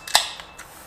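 A beer can is punctured to shotgun it: one sharp, bright pop near the start, followed by a couple of fainter ticks and clicks, close by and without talk.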